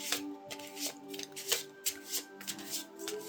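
A deck of cards being shuffled by hand close up, with quick riffling bursts and soft taps repeating in an irregular rhythm, fairly quiet.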